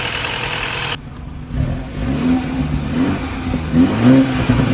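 An Audi A7 C7 engine runs close by, settling into an even idle with a few light revs and a steady low rumble.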